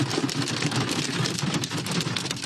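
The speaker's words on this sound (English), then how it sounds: "Oh my God, look at the size of the hail." Large hail from a spring storm pelts down in a dense, continuous clatter of hard impacts, loud and close, with a low rumble underneath and no voices.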